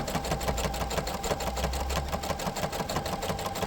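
Sewing machine running steadily at close range, a fast even chatter of zigzag stitches as it sews a fabric tube guided by hand, with no voices over it.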